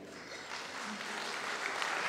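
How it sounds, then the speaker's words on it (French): An audience at a Miss Excellence Picardie pageant applauds a contestant, a soft, steady wash of many hands clapping, distant and fairly quiet throughout. "Vous pouvez l'applaudir."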